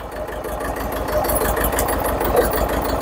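Farm tractor engine idling nearby, a steady low rumble with a faint knocking pulse, continuous and fairly loud with no talk.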